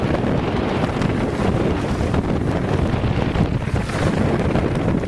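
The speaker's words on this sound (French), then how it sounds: "Nous avons du vent." Strong, steady wind roars across the microphone on a sailboat at sea, engine off, a constant loud rushing with water washing underneath and no pauses.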